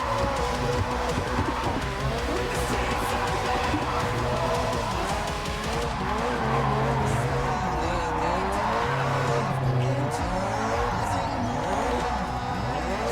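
Tires squeal and skid through long drifts in the racing game JDM: Japanese Drift Master, engine droning steadily underneath; the sliding screech rises and falls in sweeping waves with no break, loud and continuous.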